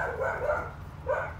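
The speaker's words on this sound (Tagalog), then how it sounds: "So, yung aso pala namin, itlog." A dog barks twice, quiet and somewhat distant, with a short gap between the barks.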